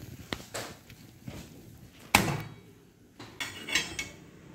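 Freshly roasted gul poli, a jaggery-filled flatbread, is moved onto a plate. Scattered soft knocks and scrapes lead to one sharp clack near the middle, followed by a few lighter taps and rustles close by.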